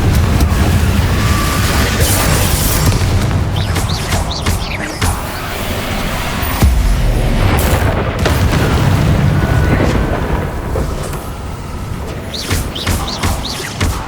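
Confringo fire spell blasts from the video game Hogwarts Legacy, a loud continuous stream of booming explosive bursts and thuds layered over game effects and music, with no pauses between impacts.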